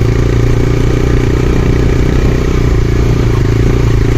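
A motorcycle engine runs steadily and close on a forest road to Mamalakandam in light drizzle, a loud continuous low throb with a rattling, clattery edge and no voices.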